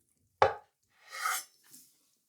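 A knife slicing food on a board: one sharp, close chop, then a longer scraping cut and a faint final tap, all in a quiet kitchen.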